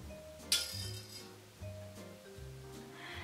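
Metal coat hanger struck with a spoon, a bright clink followed by a long wavering, humming metallic ring that fades and swells, with a second softer strike later, heard faintly.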